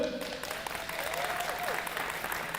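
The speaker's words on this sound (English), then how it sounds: "give yourself a round of applause" Applause at a middle school recognition event for a space talk, steady clapping from a group heard alone, with a faint whistle-like tone sliding through the middle.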